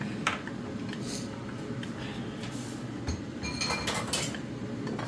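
Chopsticks stirring ingredients in a pan while cooking chili crab pasta, giving light scraping and repeated metallic clinks and taps against the pan, close by, with faint kitchen noise and a little talk underneath.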